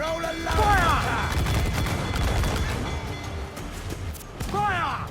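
Naval cannons boom in a broadside during a ship battle at sea in Assassin's Creed IV Black Flag, heavy low rumbling blasts continuing under shouted crew voices and game sound.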